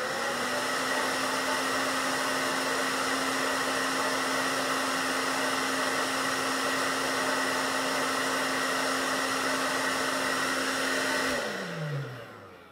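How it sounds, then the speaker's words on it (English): A hairdryer blows at a model car body on scales in an aerodynamics test, with a loud, steady whooshing hum and high motor whine for several seconds, then switches off and winds down. "Now we will zero it out and turn on the hairdryer."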